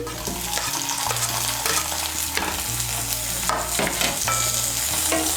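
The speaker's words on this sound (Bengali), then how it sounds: "এর মধ্যে দিয়ে দিচ্ছি মাঝারি সাইজের একটা টমেটো কুচি।" Chopped tomato stirred into onions frying in a pan for masala bhindi, with loud continuous sizzling and repeated scraping strokes of a spoon against the pan, no talking.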